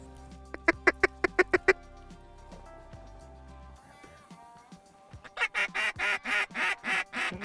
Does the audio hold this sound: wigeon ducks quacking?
yes